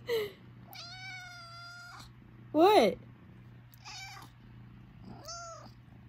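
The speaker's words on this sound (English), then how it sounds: "He loves looking up and meowing at me." A kitten meows five times in short, separate cries, rising and falling, close and clear over a low steady hum, with a brief spoken word among them.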